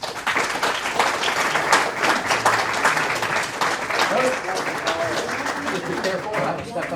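A big crowd in East Liverpool breaks into sustained applause, dense clapping that holds steady for several seconds before easing off slightly, with a few voices mixed in.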